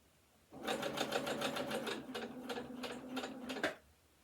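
A sewing machine stitches fabric for a sampler quilt in a steady burst of rapid, even needle strokes lasting about three seconds, close and clear, stopping abruptly.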